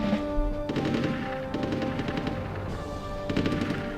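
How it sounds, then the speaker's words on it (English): Bursts of automatic gunfire in a Rise of Nations WWII strategy game battle during a push into Berlin, coming in repeated rattling volleys over a steady background din. "We're opening fire."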